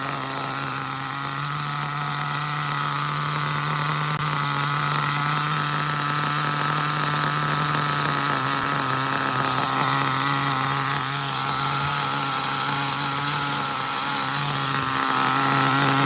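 A Kyosho GT1 RC nitro engine, re-pinched and being bench tuned after an idle set screw adjustment, runs at a steady, fairly loud idle throughout, with a continuous buzzing drone and no voices.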